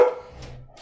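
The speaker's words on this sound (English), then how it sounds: "My dog saying hello to you all." A dog gives one short, close bark at the very start, which quickly trails off into a quiet indoor room.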